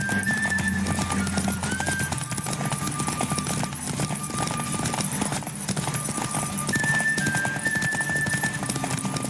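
Rapid, continuous hoofbeats of a galloping horse in The Witcher 3: Wild Hunt, with a whinny and steady game sounds running throughout.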